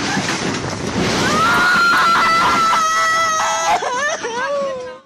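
Heavy typhoon rain and wind from Typhoon Marce lashing the town of Sanchez Mira, Cagayan: a constant loud hissing roar with whining, wavering tones rising and falling over it.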